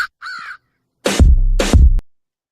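Crow-like cawing bird calls used in a song: a short squawk, then two loud harsh caws back to back, each with a heavy low thump beneath, clear and close.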